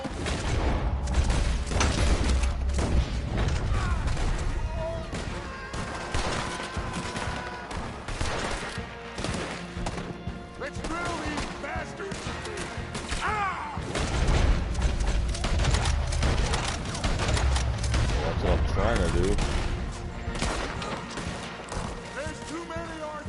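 Rapid bursts of video-game gunfire from Red Dead Redemption crackle through a dense, busy battle mix, with repeated volleys and booms running throughout while people talk over it.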